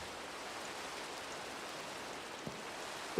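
Steady, soft rain hiss from the video game Minecraft, an even wash of patter with no speech, broken only by a faint tap near the end.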